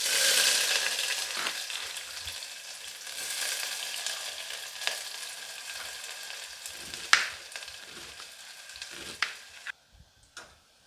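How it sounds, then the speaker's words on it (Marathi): Chopped onion sizzles and fries in a hot pressure cooker for a chicken curry, a steady hiss that fades gradually, broken by a few spoon scrapes and clinks toward the end. "त्याच्यात कांदा टाकून घेऊया आपण"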